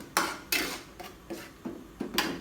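Metal utensils clink against a pot of boiling vegetables as salt goes in, with five or six sharp, fairly loud clanks at uneven intervals and no talking.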